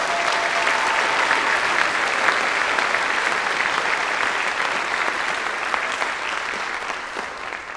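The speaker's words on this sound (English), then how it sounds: "how about one more round of applause for everybody?" An audience at a school scholarship awards night applauds in a steady, dense wash of clapping that holds at an even level and eases off slightly toward the end.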